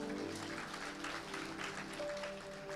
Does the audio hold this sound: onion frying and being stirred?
no